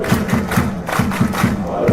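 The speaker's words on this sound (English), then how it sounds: "You can feel the tension in the crowd." Stadium crowd noise from the football video game PES 6, a steady dense roar of many voices with rhythmic rising chant-like swells repeating about twice a second, loud and continuous.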